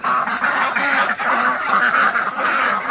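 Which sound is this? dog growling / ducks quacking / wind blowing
ducks quacking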